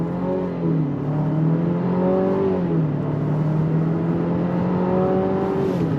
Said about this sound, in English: with the 2-cylinder turbocharged engine, you're gonna have the sound of an inline-4 turbocharged engine coming from the hood